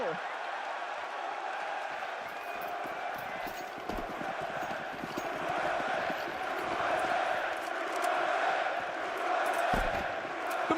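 A live esports crowd at a BLAST Premier quarterfinal, with a broad, sustained roar of cheering and chanting from a large arena audience that builds steadily, mixed with casting voices.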